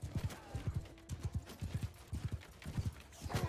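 Horses gallop across a battlefield in the video game Bannerlord, rhythmic clusters of hoofbeats pounding in steady triplets at moderate volume, with a brief neigh in the middle.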